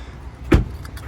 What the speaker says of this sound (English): Pressing that locks the vehicle.